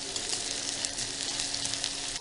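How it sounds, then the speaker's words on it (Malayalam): Chopped onions fry in hot coconut oil in a pan, a dense, steady sizzle heard close up and without pause, with no talking over it. "ഉള്ളി നല്ല ഗോൾഡൻ ബ്രൗൺ ആയിട്ട് വറുത്തെടുക്കാം."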